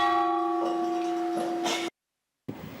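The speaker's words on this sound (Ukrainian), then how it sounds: "вдарити у дзвін" A single struck tower bell at Radomyshl Castle rings out with a sustained metallic hum that fades, then cuts off abruptly before a brief burst of noise.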